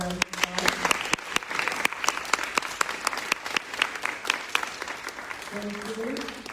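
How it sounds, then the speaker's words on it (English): A community meeting audience at a candidates night claps for mayoral candidates, a moderate round of applause with sharp individual claps standing out, and a voice speaking briefly near the end. "please let's give them another round of applause"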